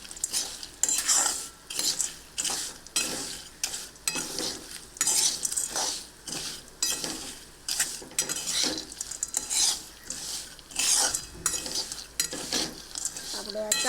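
Mango seed pieces for a mouth freshener are stirred in a pan, giving a steady run of rhythmic scraping and clinking strokes, close and continuous, with no talk.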